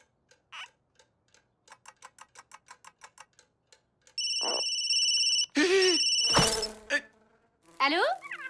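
A mobile phone ringtone rings loudly in an indoor comedy scene, a sustained electronic tone cycling through two bursts, preceded by a quiet rapid ticking pattern and followed by brief mixed noises.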